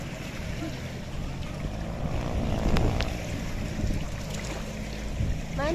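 A motorboat engine drones steadily over water during a typhoon rescue, mixed with wind and wash. The sound is loud and continuous, with faint voices now and then.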